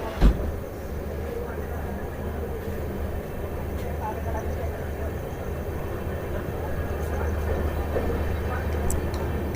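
Kotdwar Express with LHB coaches pulling out of Laksar Junction, heard as a continuous low rumble and steady rolling drone that builds slightly over time, with a brief knock at the start.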